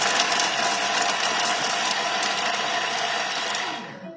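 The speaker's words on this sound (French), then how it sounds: "Et on va mixer rapidement nos petites échalotes," A Thermomix whirs at speed 5 for a few seconds while chopping shallots, a loud, dense, even motor and blade roar that cuts off near the end, with no speech.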